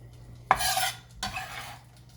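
Roasted pumpkin scooped into a soup pot, giving two close, brief scraping and stirring sounds with a soft sizzle-like wash, each lasting under a second, with no talk.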